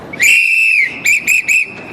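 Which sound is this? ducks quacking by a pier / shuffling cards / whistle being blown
whistle being blown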